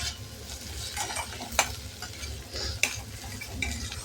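Tomatoes and vegetables for upma sauté in ghee in a pan, a close crackling sizzle with stirring scrapes and two sharp spoon clinks against the metal.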